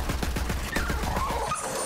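In Borderlands 3, a dog whimpers and yips through a burst of rapid, evenly spaced gunfire pops, followed by a brief higher whine as the shots fade.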